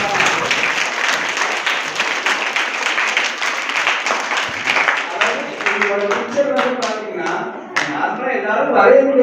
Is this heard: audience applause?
yes